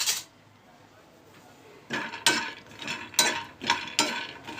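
Peanuts being dry-roasted in a pan for a carrot, radish and potato fry, heard as quiet rattling scrapes and clatters of nuts being stirred, a few bursts repeating toward the end after a near-silent start.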